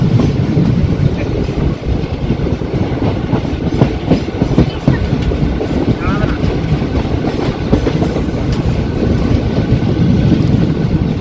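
Shalimar Okha Express 22906, a passenger train, runs past Sabarmati Junction after crossing the Sabarmati river: a loud, steady rumble with rattling carriages and some wind buffeting throughout.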